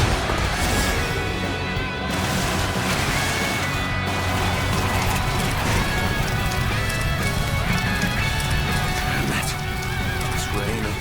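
Arrows rain down in a Dynasty Warriors: Origins battle during the escape from Wan Castle, a dense, continuous pattering clatter with crashing impacts, loud and unbroken throughout.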